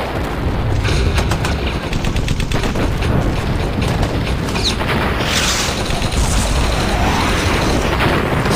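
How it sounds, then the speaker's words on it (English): A Katyusha rocket barrage in the Men of War: Barbarossa video game, a dense, loud, continuous roar of launches and explosions that rumbles without pause, with a few crackling bursts early on. "Ah, Katusha barrage."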